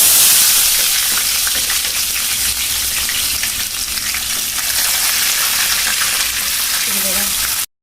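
Onions sizzle loudly in hot oil in a home kitchen pan, a dense, continuous frying hiss that eases slightly before a short clatter at the end.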